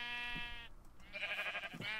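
A sheep bleats in the Minecraft video game, two short wavering calls about a second apart, close and clear over steady background sound.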